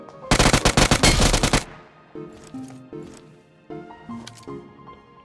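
A loud, rapid burst of automatic gunfire rattles through a shooting video game for over a second, followed by quieter game effects and tones.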